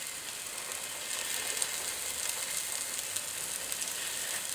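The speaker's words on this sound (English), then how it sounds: "So we'll just drop them into our heated fry pan." Meatballs sizzling in a heated electric fry pan, a steady, dense frying hiss with faint crackles that holds evenly throughout, close and moderately loud, with no talking.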